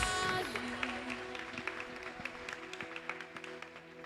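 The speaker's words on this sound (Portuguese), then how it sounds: "Vamos aplaudir o nome do nosso Deus." A church congregation at a leadership seminar service claps in praise of God, scattered, fairly quiet applause with irregular individual claps over a lingering tonal hum.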